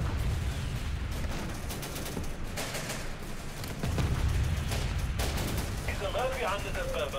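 Gunfire in the war strategy game Syrian Warfare during a desert battle around a bazaar complex with armor support: a dense, continuous crackle of rapid shots and heavier booms, close and steady throughout.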